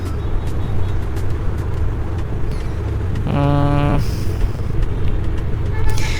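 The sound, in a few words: car driving in Car For Sale Simulator video game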